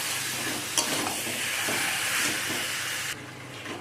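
Marinated chicken is stirred into frying spice masala under a loud, steady sizzle and hiss, with soft scraping strokes of the spatula layered on top until the sizzle abruptly drops.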